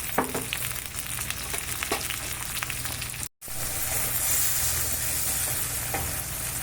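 Sliced onions with a little salt frying in a pan while a broccoli and green pea dish is being made, a dense continuous sizzle with stirring scrapes, briefly cut off midway, then resuming louder.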